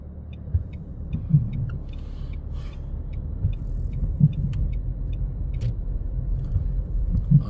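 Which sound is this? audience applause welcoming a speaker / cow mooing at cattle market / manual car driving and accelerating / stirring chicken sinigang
manual car driving and accelerating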